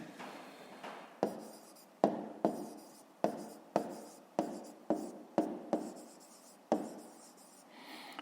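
Close, quiet pen strokes on paper while a fifth-grade math exercise is written out, about a dozen short scratching bursts in an uneven rhythm, each starting sharply and fading, with no voices.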